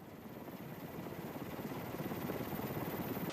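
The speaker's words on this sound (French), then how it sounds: "Ce chasseur américain décolle du porte-avions USS Abraham Lincoln." A US fighter jet takes off from the aircraft carrier USS Abraham Lincoln at sea, a steady, loud roaring rush of engine noise that swells slightly and holds without a break.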